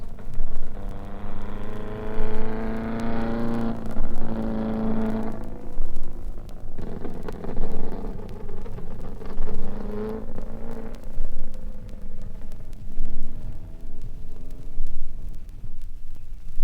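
A small 1100cc Coventry Climax-engined race car at Sebring, its engine droning and rising in pitch over a steady roar, loud and close, with other motor noise around it and no talk.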